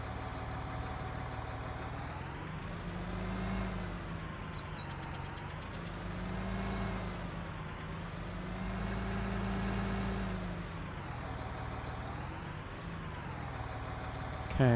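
A tractor engine runs steadily in Farming Simulator 19, a continuous mid-pitched idle drone with slow swells in revving, close and alone with no talk.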